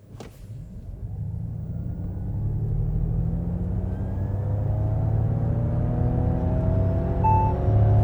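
A Ford Mustang Mach-E electric SUV accelerates hard with its artificial sound generator switched on, a synthetic engine-like drone rising steadily in pitch over several seconds, smooth and continuous with road rumble underneath.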